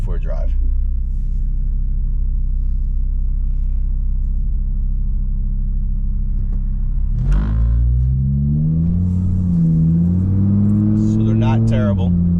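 A Volkswagen Golf 2.5 fitted with new density engine mounts and a billet dogbone mount gives a steady low engine rumble from inside the cabin, rising with acceleration later on, while a person talks over it.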